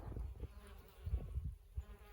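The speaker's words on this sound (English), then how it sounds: "Can you hear the bees buzzing?" Bees buzz around flowering collard plants, a faint low hum that swells and fades in soft pulses as they move close to the mic.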